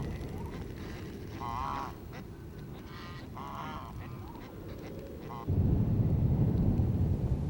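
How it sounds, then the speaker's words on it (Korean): Free-range ducks quack and fowl honk around a henhouse on a snow-covered farm, a few nasal calls over a steady rumbling background that grows louder near the end. "방목해서 키우는 닭과 오리들은 벌써 닭장 주변으로 모여들었다."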